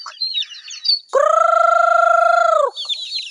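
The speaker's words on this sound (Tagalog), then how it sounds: "tinatawag ko yung mga manok kasi pakakainin ko ng tuyo" Chickens chirp and cluck in short bursts as they are called for feeding, interrupted by a long, loud sustained call before the clucking resumes nearby.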